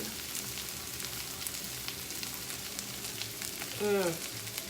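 Sausage-style tempeh crisps in a frying pan with a steady, close, crackling sizzle throughout, and a brief stir or scrape near the end.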